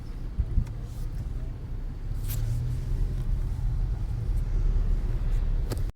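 Traffic crawling in a slow jam caused by construction on a rainy road trip, a low continuous engine rumble heard from inside a car, with a few faint clicks and no talking.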